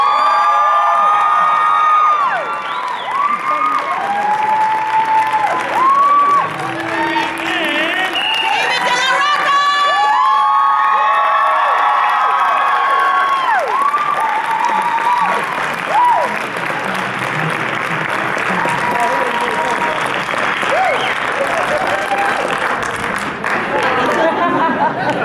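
Convention panel audience cheers and applauds loudly and continuously for the whole stretch, with whoops, shouts and crowd chatter mixed in and a voice calling out over the noise near the start.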